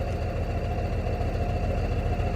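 A truck's diesel engine idles steadily during an air brake test at a truck driving school, a continuous low, rumbling drone with a faint regular pulse, close and alone without talk.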